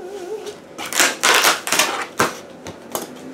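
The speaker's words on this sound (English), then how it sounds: "I'm just going to go ahead and rip into this" A Stitch Fix clothing subscription package being ripped open by hand: a close run of loud tearing and crinkling bursts with short pauses and no talk.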